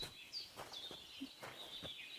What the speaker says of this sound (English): Love the birds.